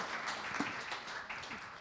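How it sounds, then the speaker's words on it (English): A town hall crowd at a mental health event claps, a steady quiet patter of applause lasting under two seconds, heard from a distance in the room. "Give them a round of applause, guys."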